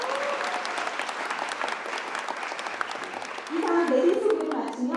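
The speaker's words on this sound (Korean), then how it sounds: "다시 한번 여러분들 힘찬 박수 부탁드립니다" An audience at a reconstruction launch ceremony in Jung-dong, Bucheon, applauds steadily, the clapping swelling louder near the end while a voice speaks over a microphone.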